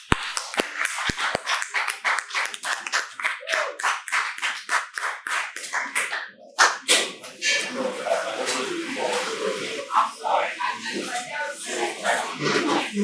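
An audience at a comedy night in a bar and grill applauds comedian Peter Bates with a dense burst of clapping that thins out, followed by someone speaking into a microphone.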